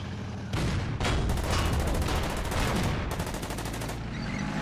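Gunfire from units in the World War II strategy game Order of Battle, with rapid volleys and rattling bursts of shots, loud and close, in clustered fusillades with brief gaps.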